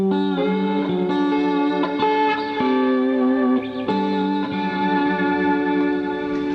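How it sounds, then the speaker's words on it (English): Clean electric guitar chords ring out with echoing repeats trailing behind each strum, sustained and spacious, played alone without any voices. "Sometimes I'll put a little delay on for a psychedelic cowboy kind of stuff"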